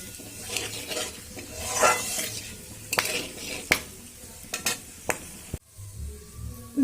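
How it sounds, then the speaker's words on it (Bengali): Whole cumin, garam masala, cracked cardamom and a dried red chili tempering in hot oil, with steady sizzling and popping alongside frequent stirring scrapes and clinks of a spoon against the pan. "দিয়ে দেব একটা শুকনো লঙ্কা ফোড়নটা একটু ভাজা হতে দেবো"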